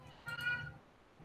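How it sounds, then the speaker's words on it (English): A male house cat gives one drawn-out, tonal meow indoors. It is faint and distant against quiet room noise during a livestream. "I'm sorry if you can hear my cat. He's meowing a whole lot for some reason I don't understand."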